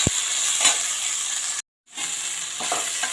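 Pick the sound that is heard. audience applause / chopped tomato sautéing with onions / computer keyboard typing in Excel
chopped tomato sautéing with onions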